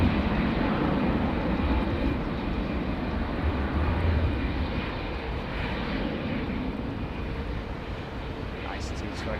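An Airbus A220 jet departs runway 09 with a steady, loud broadband engine roar heard from near the runway. The roar eases slightly toward the end.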